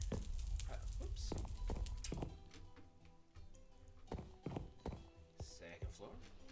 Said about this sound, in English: Stop walking because the footsteps are loud